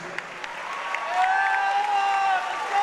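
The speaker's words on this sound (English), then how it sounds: "let's get a nice round of applause out here for both of these fighters" Arena crowd applauding two fighters after a boxing bout, a steady wash of clapping with scattered cheers and an announcer's voice carrying over it.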